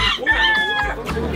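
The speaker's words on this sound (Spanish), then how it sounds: "Miren nomás, qué chulada de gallinitas" Hens cluck and fowl call at a poultry breeding farm, several close birds overlapping in a busy, continuous chatter.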